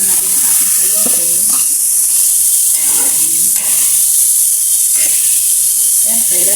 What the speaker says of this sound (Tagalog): Ilalagay na natin yung ating gulay na sayote.